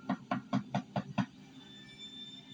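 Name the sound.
knock at the door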